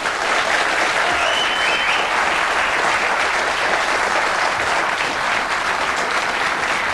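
A television studio audience applauding in a 1994 talk show, loud, dense clapping from many hands that stays steady throughout with no talking over it.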